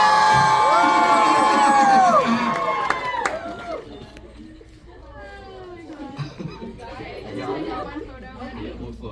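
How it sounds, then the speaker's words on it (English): At a live Book of Bill Q&A with Alex Hirsch, a large audience screams and cheers loudly and shrilly for a few seconds, then breaks into lively overlapping chatter and scattered whoops. "so everybody scream"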